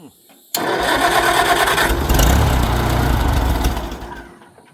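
A Farmall Cub tractor engine without a choke, being cranked and starting to churn, a loud, steady rough mechanical clatter that begins abruptly and runs several seconds before cutting off.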